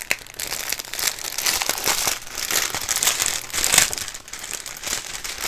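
Continuous crinkling of thin plastic bags of diamond painting supplies being handled and pulled open, with bursts of rustling and crackle close up, no voices.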